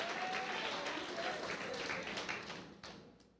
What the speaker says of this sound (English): If I was in a right church, somebody would clap and give Jesus praise.